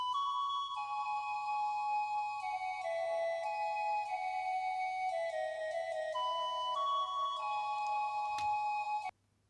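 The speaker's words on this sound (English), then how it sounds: "So this is a pan flute sample," A filtered pan flute sample from the Massive synth plays a sustained, breathy melody with gliding held notes over a low steady hum, stripped of top and low end, before cutting off abruptly near the end.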